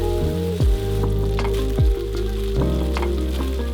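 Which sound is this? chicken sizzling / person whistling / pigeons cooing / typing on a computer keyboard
chicken sizzling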